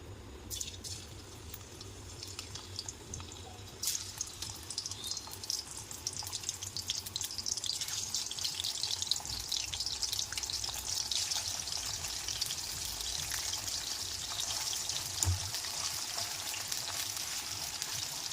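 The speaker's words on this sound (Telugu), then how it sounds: "ఇప్పుడు ఈ మటన్ పీసులను దాంట్లో వేసుకొని డీప్ ఫ్రై చేసుకుందాం" Mutton pieces for pickle drop into hot oil in a kadai at about four seconds; a faint hiss then swells into a steady bubbling sizzle of deep frying that continues to the end.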